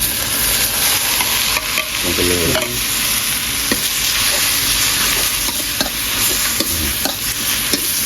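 Frog meat sizzles and crackles in a hot wok while a utensil stirs and scrapes in bursts; a voice speaks briefly over the frying.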